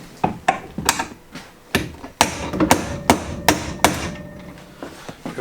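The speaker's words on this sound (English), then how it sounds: "I'm going to try it again. I'm going to hit it hard." A broken mountain bike frame part is struck hard again and again. Loud, sharp metallic hammer blows come in an irregular rhythm, roughly a dozen impacts in a few seconds, close by, with no voices.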